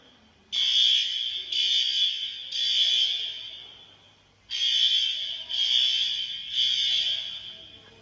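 A shrill fire alarm, set off by a pull station, sounds in six bursts, two groups of three rings separated by a short pause, loud and close.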